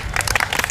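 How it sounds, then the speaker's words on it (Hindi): Brief applause from students in a classroom prize distribution, a short patter of many claps, fairly close and steady. "ताली हो जाए।"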